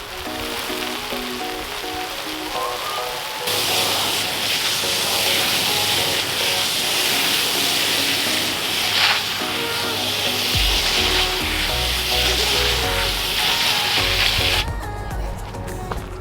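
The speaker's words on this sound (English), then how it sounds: "I'm just finishing up watering them, and I'm just going to keep going through and watering" A garden hose sprays water onto tomato plants with a steady, loud hiss and patter, changing in tone as the stream shifts, and a low rumble joining near the end.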